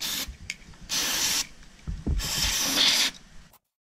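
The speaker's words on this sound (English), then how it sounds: "The outside part, I'm just gonna use the brake cleaner." Aerosol brake cleaner bursts onto the outside of a Mercedes-Benz C-Class W204 throttle body in a few short close hissing sprays of about half a second each, with rubbing and handling noises between them and no speech.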